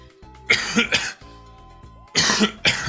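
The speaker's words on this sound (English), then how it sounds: "Sorry, I'm coughing." A person with a lingering head cold and chest cough coughs in two close bursts, each a pair of harsh, loud coughs near the microphone, separated by a short pause with faint background tones.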